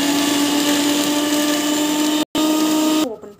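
A kitchen mixer grinder blending garlic whirs at a high steady pitch for about three seconds, close and loud, with a split-second stop before it winds down.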